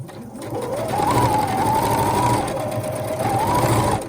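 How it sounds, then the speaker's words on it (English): Sewing machine stitching fabric for a face mask, a loud continuous motor whir with rapid needle clatter, close and steady across the whole span. "And then you can put your top fabric on again and continue sewing."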